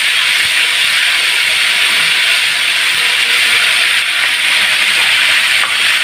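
Ground dried Kashmiri red chilli sizzling in hot oil as a tempering for dal, a steady, loud, continuous hiss and crackle close by with no voices.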